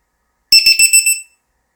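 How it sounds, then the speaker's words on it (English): A LiPo battery alarm plugged into a balance lead on a quadcopter's battery gives a rapid series of about five loud, high-pitched electronic beeps lasting under a second, then goes quiet. "What you want to do with this LiPo alarm is this left side here."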